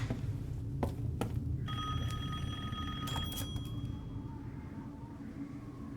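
Telephone ringing in the video game Resident Evil Village, a few bright electronic rings over a low ambient rumble, moderately loud and fading toward the end.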